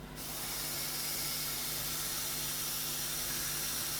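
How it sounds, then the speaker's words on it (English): An airbrush sprays paint while an eye is painted, a close, continuous hiss that starts abruptly and holds steady for a few seconds with nothing else heard. "making sure I'm pointing the airbrush downwards"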